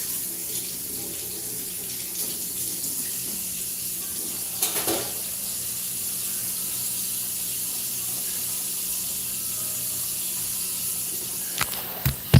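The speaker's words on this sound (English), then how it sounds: "while I wash these potatoes" Kitchen tap runs steadily while potatoes are washed, a continuous close hiss of flowing water with a few small knocks and splashes, no talking.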